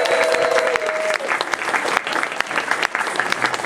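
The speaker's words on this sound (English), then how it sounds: "Big round of applause for our winners." A crowd claps steadily for the winners at a fan convention's closing ceremony, dense applause held at an even level for nearly four seconds with no voices standing out.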